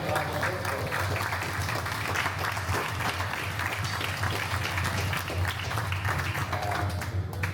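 An audience applauds master glassblower Massimo after a glassblowing demonstration in a Murano glass factory, steady sustained clapping filling the room throughout.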